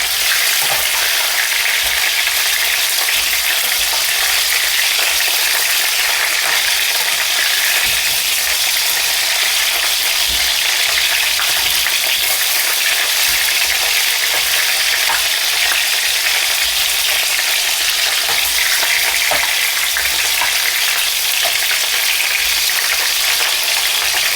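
Loud, continuous sizzling of bitter gourd sabzi frying in a pan with cumin, stirred throughout, a dense close hiss with soft scraping and no voices.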